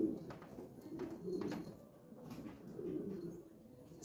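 A Kashmiri pigeon coos in soft, low, rolling phrases that swell and fade, close by but quiet, with no talking over it.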